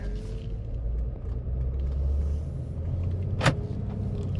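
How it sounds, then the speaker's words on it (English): A 2010 Mercedes GL350 SUV drives on the road, its steady low engine and road rumble continuous throughout, with a brief mechanical click or whir near the end. "put it in drive and let us hit the road"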